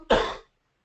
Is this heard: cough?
yes